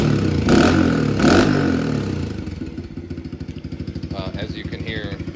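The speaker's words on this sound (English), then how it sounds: "So this would be the stock pipe at idle. Obviously I got this piece off here, but we'll give it a couple rev bombs." A Kawasaki KLX110R dirt bike on its stock exhaust pipe, with a piece removed, gives two sharp rev blips, then settles into a close, rapid, pulsing idle.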